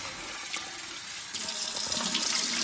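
Tap water runs steadily over rice being rinsed in a kitchen sink, a continuous splashing hiss that grows a little louder and fuller partway through, with no talking.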